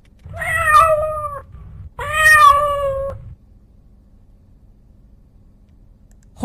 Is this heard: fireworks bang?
no